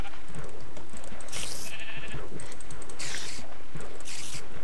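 Sheep in Minecraft bleating three times in short bursts amid game noise, with a faint rustling or zipper-like sound partway through.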